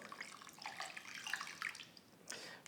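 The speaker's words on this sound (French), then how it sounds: "je vais arroser ça d'eau, demi-litre d'eau" Half a litre of water is poured over a mound of granulated sugar, giving a soft splashing trickle with a fresh splash near the end, quiet and close, with no voices.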